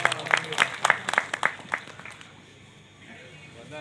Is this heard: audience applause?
yes